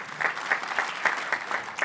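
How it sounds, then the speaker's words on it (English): An audience at the Urban League's 106th annual dinner applauds. The clapping is steady and fairly close, with a rhythmic pulse of hand claps running throughout. "A round of applause as they come to a stage to assist with tonight's presentation."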